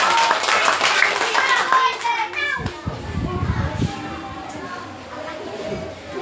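Students in a classroom debate applaud the moderator Isabel; the brisk clapping fades after a couple of seconds and gives way to children's voices chattering.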